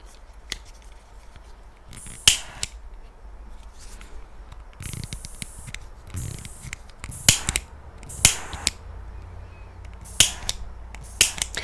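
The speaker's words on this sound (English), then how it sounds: "I have my lighter." A lighter is flicked repeatedly: a series of sharp, close clicks at irregular intervals over a quiet background.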